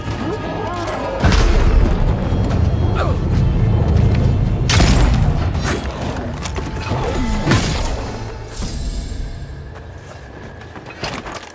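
Gunfire and heavy booming impacts from combat in the fantasy video game Avowed, with loud repeated blasts and crashes over a rumbling battle bed, and voices calling out during the fight.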